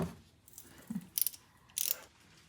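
A ratchet turns a drain plug back in on a 2007 Lamborghini Gallardo Nera during an oil change, with two quick bursts of close clicking and a light metallic knock in between.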